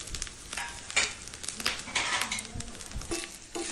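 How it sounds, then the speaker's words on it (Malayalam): Coconut pieces frying in a pan for a jackfruit and rice flour unniyappam, a busy crackling sizzle with occasional scrapes and light metal clinks of stirring, close up with no talking. "അതാ തേങ്ങാക്കൊത്ത് മൂത്ത് വരുന്നുണ്ട്"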